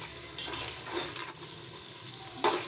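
Four medium onions frying and being stirred into lentils in a pot for degi aloo gosht, a steady close sizzle with two sharp scraping stir strokes near the start and end.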